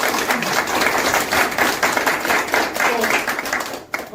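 A crowd at a press conference for Kim Moon-soo's campaign bursts into brief, dense clapping, steady and close for about four seconds before tapering off at the end.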